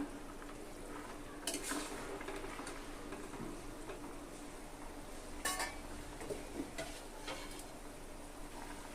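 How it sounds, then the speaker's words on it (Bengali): A spoon stirs green chillies into tangra fish cooking in a pan, with a low steady sizzle under occasional clinks of utensil against metal, quiet and close with no voices. "তো কাঁচা লঙ্কাটা দিয়ে নেড়ে চেড়ে দেব"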